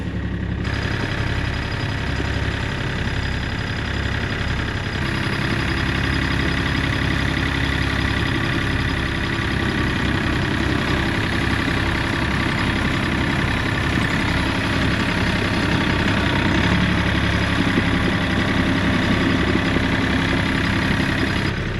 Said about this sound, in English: This is a heavy old beast, and there's ice right underneath this snow here, so it's just spinning on the ice.